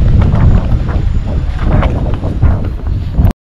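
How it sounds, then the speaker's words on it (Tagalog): Strong wind at a beach buffets the microphone in a loud, continuous roar with gusty surges, cutting off abruptly at the end, no talk heard. "Pero medyo may kalakasan nga lang ang hangin."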